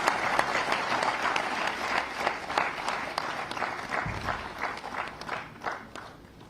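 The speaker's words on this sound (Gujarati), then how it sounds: "આવો જોરદાર તાળીઓ સાથે આમંત્રિત કરીએ આપના વક્તવ્ય માટે" Sustained, dense audience applause fills a hall at a program in Gandhinagar as the Gujarat Chief Minister is invited to speak, steady and loud throughout with no pause.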